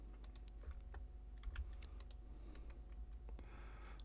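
Quick, light computer keyboard typing and mouse clicks during Blender 3D modelling work, faint and irregular over a steady low hum.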